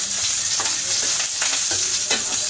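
Garlic and onion frying in a pan for a home-cooked dish, a loud, dense, continuous sizzle with spatula stirring strokes scraping through it, no voices.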